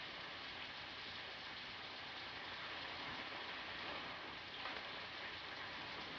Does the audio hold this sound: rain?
yes